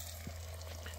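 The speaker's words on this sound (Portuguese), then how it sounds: "Deixa eu fritar mais um pouquinho aqui." Piau fish frying in a pan by a river gives a soft, steady sizzle and crackle over a low background hum, faint and continuous.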